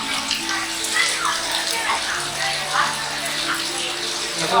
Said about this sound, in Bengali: তো তোমাদের বাইরে বৃষ্টি হচ্ছে, একটু দেখাই।